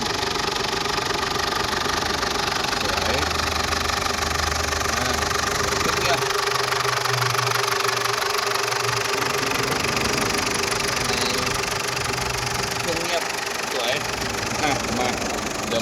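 Ford Ranger 2009 XLT pickup engine running at idle, a steady low rumble with knocking vibration throughout, close by, while people talk over it.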